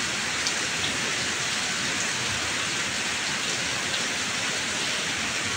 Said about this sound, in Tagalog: Yung ganyang ulan lang po, hindi po malakas.